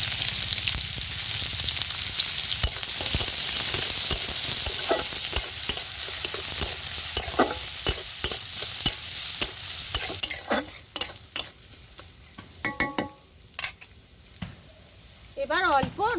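Chopped onion drops into hot oil in a pan and fries with a loud, steady sizzle, which later thins out and gives way to irregular scraping stirs and clinks, with a voice talking at times.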